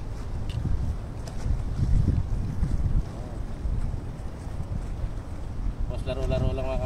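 Steady wind buffeting the microphone outdoors during tenkara fishing, a continuous low rumble with a person talking over it.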